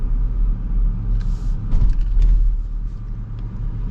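A 2025 Ford Ranger XLT pickup with leaf-sprung rear suspension rolls over a bigger bump, heard from inside as a low steady road rumble with a few dull thuds and rattles from the suspension.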